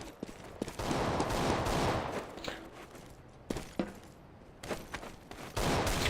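Gunfire in the video game Counter-Strike: Global Offensive, with several sharp shots and bursts crackling over a loud, busy background.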